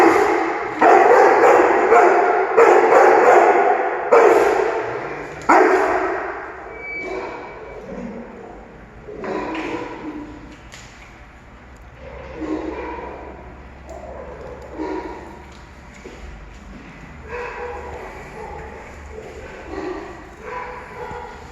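A dog barks in loud, rapid repeated bursts during trust training with a man, then quiets to softer yips and scattered movement under people talking.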